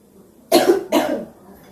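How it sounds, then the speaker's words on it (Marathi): A woman coughs twice in quick succession, close and loud, with a short pause between the harsh bursts and quiet before and after. "तर ते खोकल्यानं मी बेजार झाले"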